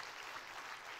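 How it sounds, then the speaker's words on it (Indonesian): Congregation clapping during a church worship service in Semarang, steady dense applause filling the room for a second with no talking over it. "Tepuk tangannya pula yang paling meriah buat Tuhan kita"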